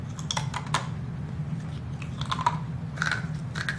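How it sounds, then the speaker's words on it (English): Gum from a 1988 Garbage Pail Kids trading card pack, decades old, being chewed close up in irregular crunchy bursts over a steady low hum, with no talking. "You got this gum here. Let's see how good it is after, 21 years later."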